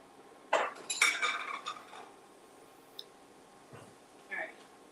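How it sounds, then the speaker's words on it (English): Dishes clinking as a small bowl is taken out in a kitchen: a cluster of bright clatters and clinks early on, then a few softer taps and scrapes, fairly quiet against room noise. "So let me get a little container, a little bowl."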